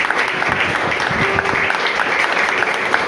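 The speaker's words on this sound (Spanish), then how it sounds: "Denle un aplauso al Señor." Brief burst of congregation applause during a church sermon, dense clapping filling the room with a sung or voiced tone briefly underneath.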